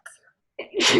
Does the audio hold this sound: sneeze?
yes